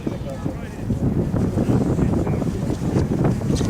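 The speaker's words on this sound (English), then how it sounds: "Coming up to take off power, the B-29 Superfortress." Four Wright R-3350 radial engines on the B-29 Superfortress "Fifi" run up toward takeoff power, a loud, rumbling low roar with wind buffeting, heard at an air show demonstration under a commentator's voice.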